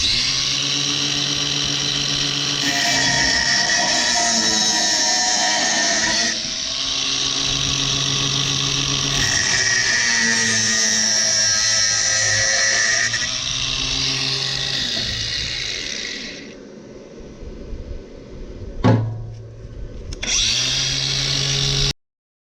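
A power cutter saws steadily through a corroded hydraulic pipe on a Bizon combine harvester, a loud continuous whine with pitch shifts as the load changes. It stops briefly, then knocks and a short restart follow.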